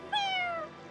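A cat meows once in the Fire Emblem Engage video game, a single clear mid-pitched call with a falling tone, close and alone with no talk over it.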